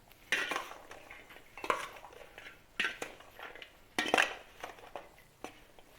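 A spoon mixes chana chaat in a bowl, making about five quiet bursts of clinking and scraping against the dish, spaced roughly a second apart, with no talking.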